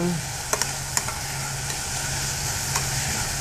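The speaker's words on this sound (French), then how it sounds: "On va brasser nos petits légumes." Vegetables stirred in a hot pan give a steady close sizzle with a few sharp utensil scrapes and clicks over a low hum, with no talking.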